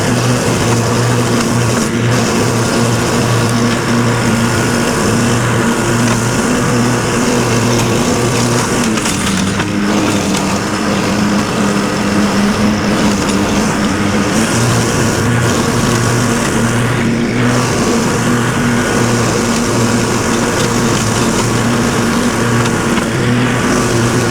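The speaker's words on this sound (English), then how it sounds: "we're gonna go ahead and mow all of this" A lawn mower's engine drones steadily as grass is mowed beside a church, a loud, continuous motor hum with slight shifts in pitch and no talking.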